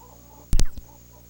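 A single hen gives a brief, sharp squawk-cluck of two or three quick notes, close to the microphone, against a quiet background with a faint steady hum.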